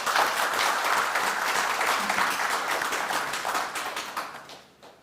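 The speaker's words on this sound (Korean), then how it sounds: "큰 박수가 필요합니다." Attendees at a defense industry breakfast forum give a round of applause that holds strong for about four seconds, then thins out and fades away.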